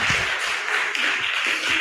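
Audience applause at a policy forum event on private schools and tax, a steady wash of clapping from a crowd filling the whole moment without talk.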